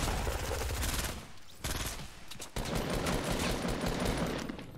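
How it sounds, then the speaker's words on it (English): Gunshots in Fortnite, loud rapid bursts of automatic fire that break off briefly twice before starting again, close and with no talk. "Heard some shots over here."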